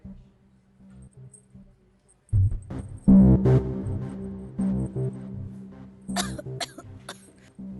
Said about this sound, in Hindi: खांसी ठीक ही नहीं हो रही है